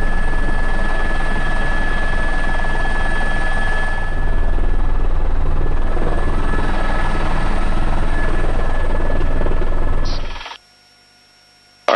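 A rescue helicopter sets down on a road in Joshua Tree National Park, a loud, close, steady rotor and turbine roar that cuts off sharply near the end.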